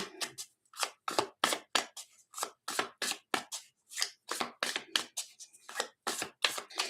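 Rapid, rhythmic brushing and scraping strokes, like shuffling against a tabletop, repeating in quick bursts with short gaps between them.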